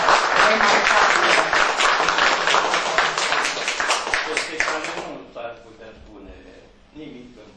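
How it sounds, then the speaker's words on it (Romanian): Audience applause at a painting exhibition opening, a dense burst of many hands clapping close and loud for about five seconds, then fading out into quieter room sound with voices talking. "Trebuie să-l aplaudăm"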